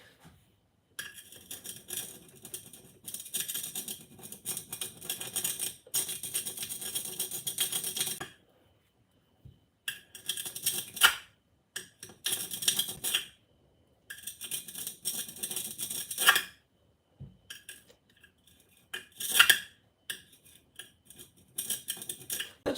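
A small wheel cutter scrapes and grinds through material in bursts of harsh, bright rasping that start and stop with short silent gaps, close and fairly loud, with no voices.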